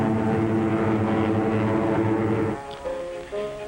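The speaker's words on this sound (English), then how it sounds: "Your own American P-47, the Thunderbolt, side by side with a graceful spit." A P-47 Thunderbolt fighter plane flies loud and near, its steady propeller-engine drone holding strong before thinning out and wavering toward the end.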